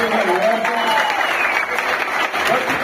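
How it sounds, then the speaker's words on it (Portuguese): A crowd at the VivensisDay product launch event in Caieiras, São Paulo claps steadily and loudly throughout, with a presenter's voice carrying over the applause. "uma salva de palmas para vocês."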